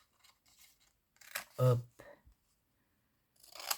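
Scissors snip through paper, with one crisp cut standing out among soft handling sounds and a brief spoken word.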